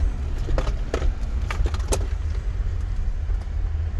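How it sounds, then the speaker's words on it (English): Inside a 2007 Jeep Wrangler with TerraFlex suspension, a steady low drivetrain rumble plays under a series of sharp knocks and clunks while driving, as if the differential is binding. "It sounds like the freaking diff and shit's binding."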